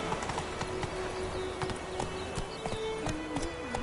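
Hooves clip-clop in a fast, steady galloping rhythm as the horse Roach runs in The Witcher 3, up close over a continuous backdrop of game ambience with faint bird calls.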